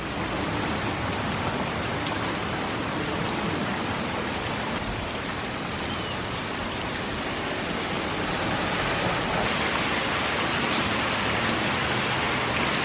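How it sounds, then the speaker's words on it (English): Heavy rain pours down steadily and close by, a dense, unbroken hiss drumming on a cover overhead for the whole stretch, with no voices. "it's pouring down raining"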